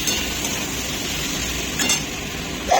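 Spices and soaked chana fry in a pan, giving a steady soft sizzle with faint scraping and clinks of a utensil, and a brief louder rustle near the end.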